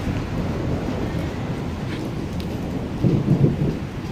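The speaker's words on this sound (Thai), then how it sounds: "อนนี้ฝนตกนะครับ" Light rain falls steadily on a road, giving an even, continuous hiss, with a brief louder rumble near the end and no talking.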